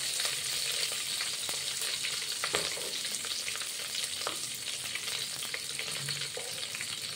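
Green chillies frying in a pan, a steady broad sizzle with a few faint utensil knocks, close and even throughout, no voices.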